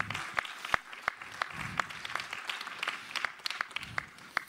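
A small audience applauds at a label presentation ceremony, fairly quiet scattered clapping with a few sharp, distinct hand claps standing out at irregular intervals, and some low murmuring beneath.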